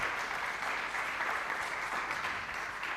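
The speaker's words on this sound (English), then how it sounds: "Please give her a round of applause" A conference audience at a climate and security event in Berlin gives a round of applause for a panelist, sustained and evenly loud, many hands clapping together without speech on top.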